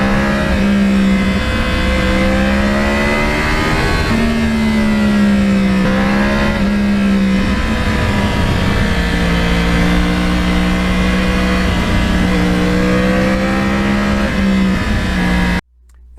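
Yamaha R1 crossplane superbike engine revving close by, a loud, continuous rasp whose pitch rises and falls in several swells before cutting off abruptly at the end.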